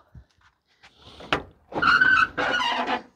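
A Nissan NV350 van's sliding door rattles and scrapes noisily as it's pulled open, with clunks and a grinding slide close by.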